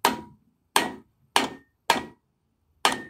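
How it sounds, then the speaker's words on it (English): Five sharp hammer taps on a hub bearing being seated in a 2002 Chrysler PT Cruiser, evenly spaced metallic knocks with short ringing decays, close and loud with no talking. "I'm just going to tap it with the hammer"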